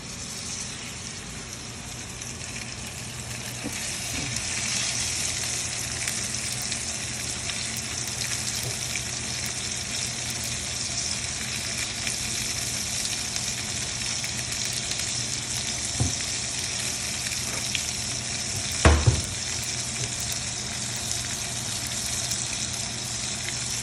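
Salmon sears in a frying pan with a steady, loud, close sizzle that fills the whole stretch, broken only by a couple of brief knocks near the end.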